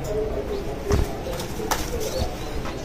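Pigeons coo softly in a loft housing young birds, low repeated murmurs with a brief wing flutter against steady background noise.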